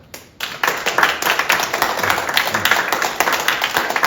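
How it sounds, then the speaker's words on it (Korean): An audience at a lecture on the legislative process for independence patriots law bursts into loud, sustained clapping that stays dense and even to the end. "오늘 강사님께 큰 박수 보내주시기 바랍니다"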